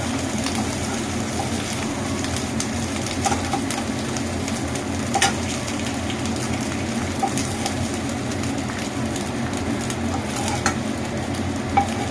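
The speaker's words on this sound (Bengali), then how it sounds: "ডিমটা ফ্রাই হয়ে গেছে এবার আমি ডিমটাকে তুলে নেবো" A fried egg is lifted from a pan of hot oil while steady, dense sizzling continues throughout, with a few faint scrapes of a utensil against the pan, close and even.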